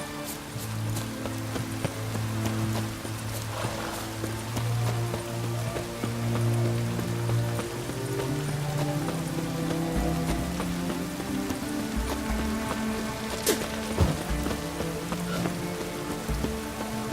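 Steady rain patters on surfaces in The Witcher 3, a soft, continuous spray of drops with a faint low ambient hum beneath and occasional light knocks.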